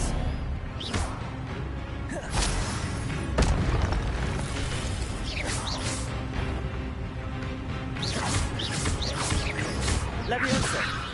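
Spellcasting combat in the video game Hogwarts Legacy, with repeated fire spell casts as whooshing bursts and booms layered over continuous battle noise and music, while a voice shouts spell names throughout.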